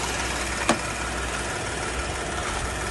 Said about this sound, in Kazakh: Қазір ғана от алса да мотор тап-таза жұмыс жасап тұр.